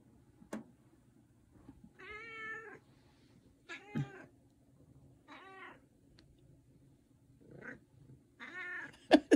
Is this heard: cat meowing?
yes